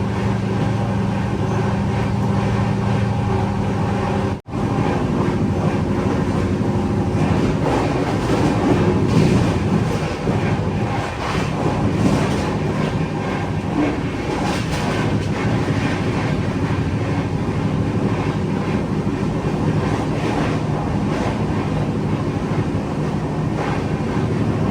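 The Jamnagar to Tirunelveli Express, heard from inside a sleeper-class coach while running at about 120 km/h, gives a continuous loud rumble and rattle with rushing wind, steady throughout apart from one brief dip.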